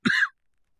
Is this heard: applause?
no